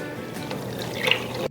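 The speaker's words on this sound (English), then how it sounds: "Now I'm going to add 4 cups of vegetable stock" Vegetable stock pours in a steady close stream into a soup pot for a chestnut and mushroom Tuscan soup, with a brief liquid splash near the end.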